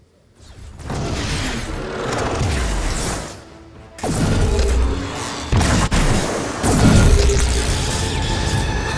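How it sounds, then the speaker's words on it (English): Aerial chase scene soundtrack from the film Black Panther, loud dense booms, crashes and whooshing roars of aircraft and weapons, continuous and layered with sudden hits and brief drops in intensity. "16 seconds of an aerial chase scene in last year's film, Black Panther, directed by Ryan Coogler."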